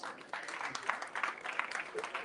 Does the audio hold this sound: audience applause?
yes